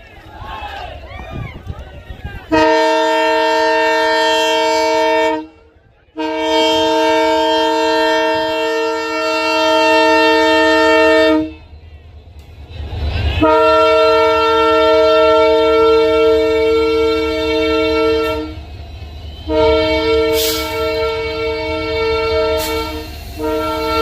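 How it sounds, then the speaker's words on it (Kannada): At the inauguration of Sindhanur station, a new train arrives and sounds long, loud, harmonic horn blasts in several bursts with short gaps, over the rumble of the train and a large crowd. "ಬಂತು ಟ್ರೈನ್."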